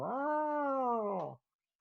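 A person imitates a cat's meow with one drawn-out, wavering vocal meow lasting over a second. It is close and loud, stops abruptly, and is followed by silence.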